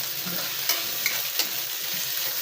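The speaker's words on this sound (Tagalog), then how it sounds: "Sauté lang natin hanggang maluto idol" Leftover chicken inasal sautéing in a hot pan, a steady close sizzle with occasional stirring clicks and scrapes throughout, no voices.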